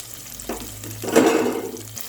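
Onion and green chili hit a hot pan and sizzle in oil for egg biryani, a short burst of frying that swells and fades within a couple of seconds, close and unaccompanied by talk.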